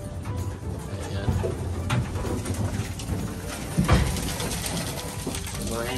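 Pigeons kept as breeding stock, hens among them, coo in a loft alongside some rattling and clicking, while a person talks over the birds now and then.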